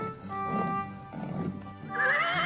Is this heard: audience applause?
no